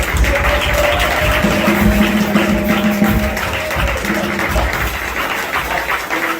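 Sustained loud applause and cheering from a church congregation celebrating a pastor's anniversary, dense steady clapping with a held musical tone and crowd voices underneath throughout.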